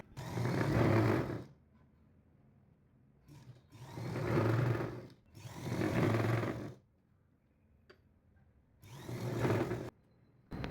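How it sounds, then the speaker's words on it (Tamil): A sewing machine stitches a blouse hem in four separate bursts, each a loud, close whirring run of one to two seconds with quiet pauses between. "இப்போ இதை இந்த ஓரத்துலேயே ஒரு தையல் போட்டு"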